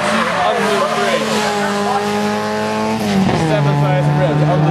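A race car engine at Snetterton screams at around 7,000 rpm, loud and close, its pitch holding steady before dropping slightly as it shifts.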